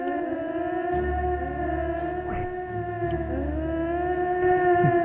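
A raid siren in the DOS game Eye of the Beholder III wails continuously with steady tones and repeated rising and falling sweeps, moderately loud and with no talk.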